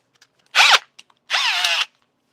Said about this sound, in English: I'm going to get my drill. And we're going to give the inside of this bowl a sand.